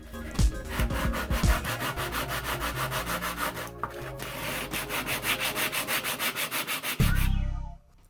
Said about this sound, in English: scrapers, chisels, and sandpaper to smooth the repairs